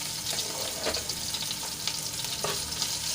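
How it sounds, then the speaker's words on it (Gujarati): Chopped green chillies and crushed ginger sautéing in hot oil for a fasting-day sabudana khichdi, a steady close sizzle with a few soft stirring scrapes and no talk. "હવે તેલમાં સરસ રીતે થોડુંક સાંતળી લઈશું મરચાં અને આદુને"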